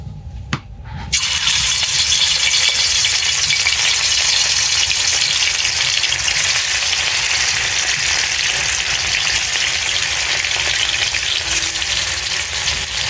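Katla fish pieces and heads hit hot oil, a brief clatter followed by a loud, continuous close-up sizzle that holds steady to the end.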